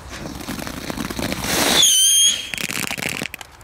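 Lidl consumer fireworks launching outdoors, a rising rushing whoosh ending in a shrill whistling squeal, followed by a run of close crackling pops and bangs.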